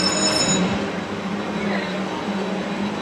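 Runaway Mine Train roller coaster at Cultus Lake Adventure Park, heard from the front car: a steady, loud rumble of wheels on track with faint metallic squeal, continuous throughout.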